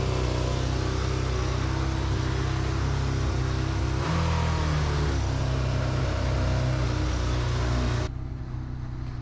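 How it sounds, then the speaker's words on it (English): An old Yamaha XJ600 motorcycle with its idle set wrong runs at high, sustained revs, giving a loud, steady engine drone with a small pitch change midway before it eases off near the end. "You probably hear it revving to the moon and back, and that's because I don't have the idle set right."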